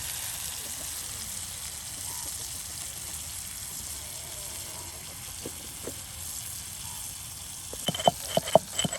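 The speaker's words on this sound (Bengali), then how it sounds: "মাংসটা দেখুন কত সুন্দর করে মচমচে ভেজে নেওয়া হচ্ছে।" Meat frying crisp in a pan for a black bhuna dish, cooked outdoors on a riverbank: a steady broad sizzle and patter, moderately close, with sharper crackles and pops toward the end.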